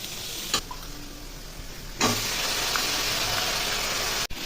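Colocasia stolons sautéed with cumin, turmeric and chilli powder in a pan with softened onion; a loud hissing sizzle swells as they go in and continues steadily up close, with a couple of sharp knocks.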